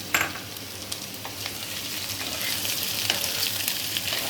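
Capsicum and green chillies being tossed for chilli paneer, with a steady sizzle in the pan and scraping stir strokes close by; no voices.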